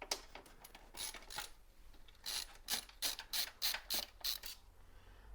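Self-tapping plastic screws being unscrewed from the front cover of a Gateway 2000 Family PC P5-75, a series of sharp clicking, ratcheting turns in quick bursts, close and quiet.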